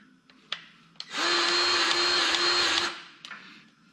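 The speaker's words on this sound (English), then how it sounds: "as I'm pumping the grease in that" Grease is pumped into the track tensioner of a Kubota 057 excavator with a loud, steady mechanical whir lasting under two seconds, framed by a few sharp clicks and knocks.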